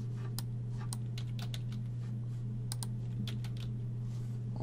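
Rapid, uneven clicking of keys on a computer keyboard, steady typing over a constant low electrical hum, with no one speaking.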